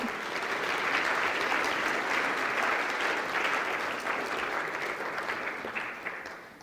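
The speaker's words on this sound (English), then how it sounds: "Give him a round of applause, everybody." An audience claps steadily to welcome a speaker onto the stage at a science and faith talk, a full, even wash of hands that holds for several seconds before easing slightly at the close.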